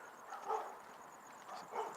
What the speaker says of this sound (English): So those are neighborhood dogs